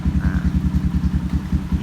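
A Yamaha YTX125 motorcycle engine putters right after a kick start, a close, steady single-cylinder chug with regular rapid pulses and light mechanical clatter.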